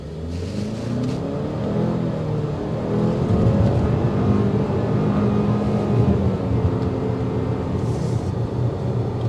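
2023 Cadillac XT4 Sport with a small turbo engine accelerating, a steady rising engine drone with climbing tones heard from inside the cabin, mixed with road and wind noise.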